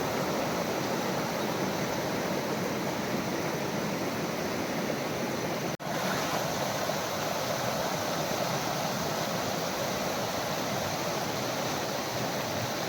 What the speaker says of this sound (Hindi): ये देखिए कितना सुंदर लगता है पानी का बहाव।